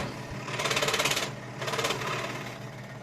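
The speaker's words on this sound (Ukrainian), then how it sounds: "цікаво даже самому дивитися, як працює інструмент, як працюють зубчики-пилочки, зрізають вони матеріал досить таки вправно" A small saw blade cuts through wood for a decorative wood-and-thread piece, making two fast, buzzing bursts of rapid reciprocating strokes, close and fairly loud, with a quieter motor hum between and after them.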